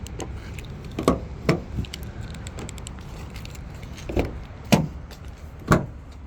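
Car keys jangle and click in several sharp, close bursts while the doors of a 2020 Nissan Patrol Ti 4x4 are unlocked, with soft handling noise between the bursts.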